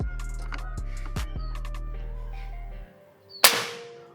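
A single sharp crack from a PCP Falcon Classic air rifle charged to 4000 psi, fired near the end after a steady low hum with a few clicks.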